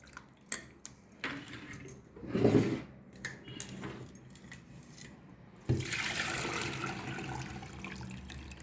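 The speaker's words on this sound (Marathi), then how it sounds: "पाणी टाकून स्वच्छ लोणी धुवून घ्यायचं." Water poured over homemade butter churned from cream to wash it: a brief splash early on, then a steady, fairly close rush of running water that continues to the end.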